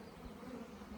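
Honeybees buzz in a bee yard, a steady, soft droning hum of many insects, faint and continuous over a short stretch with no voices.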